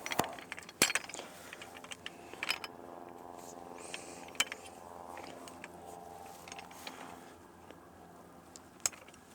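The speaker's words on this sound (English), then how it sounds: "take the stand, flip it upside down, and tighten all 4 of the lever clamps" Lever clamps being tightened on an upside-down Qube Technologies stand give off faint, scattered clicks and light ratcheting, with a few sharper metallic ticks over a quiet background and no talking.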